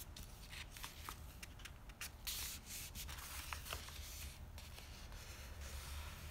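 Paper print being slowly peeled up from the corner of a gel printing plate after a leaf print, a soft, close rubbing and crackling rustle with faint tearing-like scrapes, quiet throughout.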